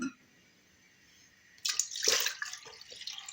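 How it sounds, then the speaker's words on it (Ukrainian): Milk pours into a saucepan with a steady splashing gush that begins after a brief quiet pause and carries on to the end. "каструльку наливаю молоко"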